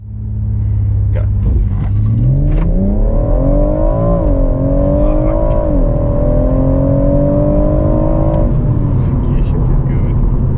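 A 2017 F20 BMW M140i with a ZF 8-speed automatic accelerates hard from 0 to 100 km/h, its engine note climbing loud and close through rising revs with clean upshifts, while occupants talk inside the cabin.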